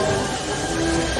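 A steam train from the 1990 film Back to the Future Part III rumbles past, a dense, loud steady roar with a sustained whistle-like tone running through it.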